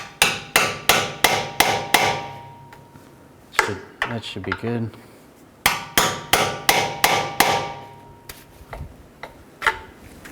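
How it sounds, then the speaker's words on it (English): Sharp metallic hammer strikes drive a pry bar into the lower ball joint of a Buick LaCrosse in quick bursts of several blows, close and loud, with pauses between groups and a brief spoken remark midway. "just take a pry bar or a screwdriver and just hammer it in right here"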